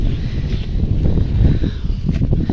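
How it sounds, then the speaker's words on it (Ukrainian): Strong gusting wind roars against the microphone in loud, low buffeting bursts, steady throughout with no voices. "Ой, вітер який"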